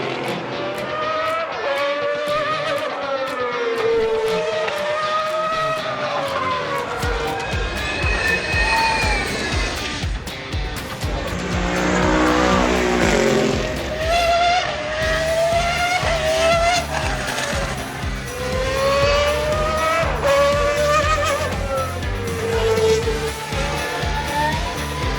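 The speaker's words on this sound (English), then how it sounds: "Burnouts of crazy V8," Loud V8 engines roar and rev during burnouts at the Goodwood Festival of Speed while tires squeal and skid in long screeching bursts, close by and continuous, the engine pitch rising and falling.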